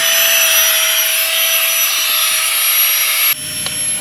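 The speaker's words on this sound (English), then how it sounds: "I've got the pump on the mattress. I'm just gonna sit it there. And then with two clicks of a button," A battery electric air pump sits on a camping air mattress during a motorcycle camping trip, blowing with a loud, steady whine and rushing airflow that cuts off abruptly near the end, leaving quieter background sound.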